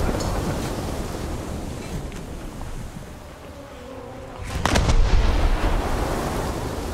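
Gunfire in a naval battle video game, rumbling wind-like noise with a sudden sharp blast near the middle followed by a louder sustained roar and scattered cracks.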